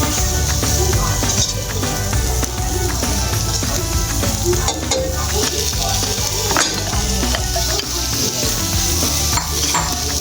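A prawn and potato cutlet filling with curry leaves sizzles loudly in a pan while a utensil stirs and scrapes it, the frying hiss continuous and close, the stirring clinks and scrapes irregular throughout.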